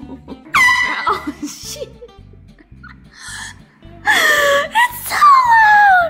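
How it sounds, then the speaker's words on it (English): A handheld air horn gives loud, sustained blasts indoors, one near the start and longer ones toward the end, with squeals, gasps and a repeating low background beat around them. "It's so loud!"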